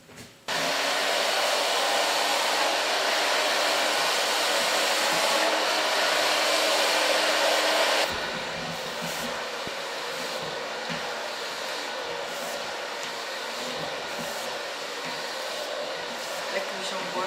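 A hair dryer runs steadily close by as a woman's hair is dried with a brush. The airflow roar is loud and continuous, then drops to a softer setting about halfway through while brushing sounds run beneath it.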